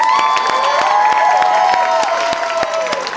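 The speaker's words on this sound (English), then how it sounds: "Round of applause for our panelists" Convention crowd cheering and clapping for a horror-event panel, with sharp individual claps punctuating a loud bed of sustained whoops and shouted voices.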